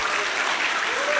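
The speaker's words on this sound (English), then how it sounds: "Please applause for Dr. Hassan, everybody." An audience claps for a speaker, a brief, dense burst of steady applause filling the room.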